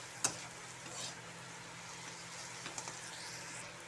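A spice paste of chili powder, turmeric and a little sugar is stir-fried in a pan: a faint, low sizzle with a sharp utensil tap at the start and a few soft scrapes later.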